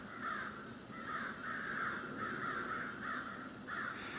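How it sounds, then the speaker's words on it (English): Several crows caw repeatedly in harsh bursts outdoors, a noisy flock calling close and loud in near-continuous rhythm with no talking. "I kind of stopped here for a minute so I could listen to the crows going crazy."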